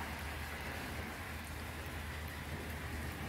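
Steady rain falls on a pineapple lily plant in a garden, a soft, even hiss of drops that stays constant and fairly faint throughout with no voices.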